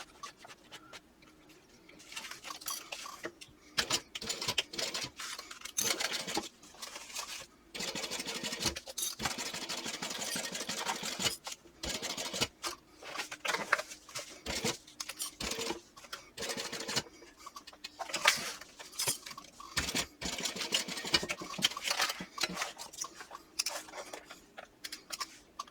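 A sewing machine stitches a 3/8 inch seam on a clutch bag, a steady close mechanical whirring run in long stretches, broken by short pauses and faint rustling of fabric.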